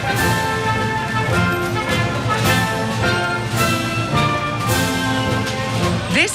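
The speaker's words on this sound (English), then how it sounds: "This is the sound of the changing of the guard, Buckingham Palace, London." Military band music at the changing of the guard ceremony outside Buckingham Palace in London, with brass and drums playing loud and continuous throughout, with no talking.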